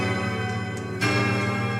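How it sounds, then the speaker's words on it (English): A gong struck in the game Silksong rings out with a sustained metallic resonance, a fresh strike adding a brighter, louder swell partway through. "Gong."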